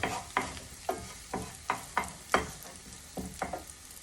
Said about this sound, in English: I'm now going to put the